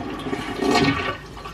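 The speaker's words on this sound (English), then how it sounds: "now we're gonna give the toilet a flush to empty out the tank here" A household toilet flushes to empty its tank: a short, close, gushing rush of water that swells in the middle and then tapers off.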